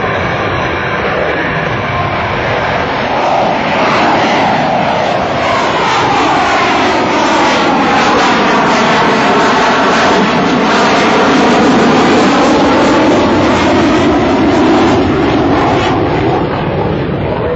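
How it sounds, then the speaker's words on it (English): A US Navy F/A-18F Super Hornet rolls out at an air show, its loud jet engine roar sustained and sweeping in pitch as the aircraft moves past, with no talking. "let's take a look at your United States Navy F-A-18 Super Hornet."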